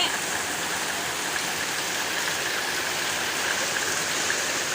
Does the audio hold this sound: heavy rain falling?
yes